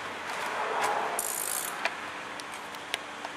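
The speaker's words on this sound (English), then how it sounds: "we got a 14mm wrench that we're going to use to just tighten it up." A 14mm wrench tightens a motorcycle chain press tool, giving a brief ratcheting sound followed by a few sharp, isolated clicks, close and moderately loud.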